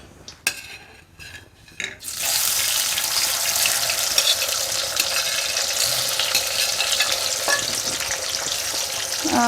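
Mixed potato pieces dropping into a little hot oil for a potato fry, a few clatters of handling before a loud, steady sizzle starts and continues close by with crackling spatter.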